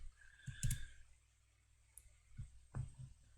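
Computer keyboard typing in a quiet room, a few scattered soft key clicks in small clusters with pauses between them, close and faint, no speech.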